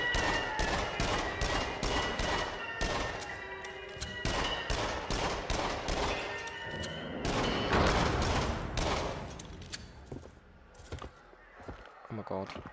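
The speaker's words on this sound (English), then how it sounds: "we got a flipping Uzi thing." Rapid gunfire bursts from an Uzi in the VR horror shooter Until Dawn: Rush of Blood, sharp repeated volleys loud and close with game music and effects, people talking over the shooting.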